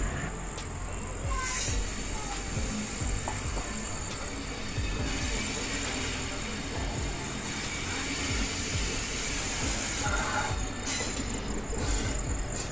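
Passenger train 03641 travelling slowly from Dildarnagar toward Zamania at night, heard from inside a coach as a steady loud rumble with wheel clatter, hiss and occasional squeals, without speech.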